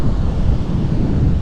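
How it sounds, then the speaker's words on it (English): Strong wind buffets the microphone on a surf beach during fishing, giving a steady low roaring rumble with constant gusty turbulence and no voices. "It's still too windy."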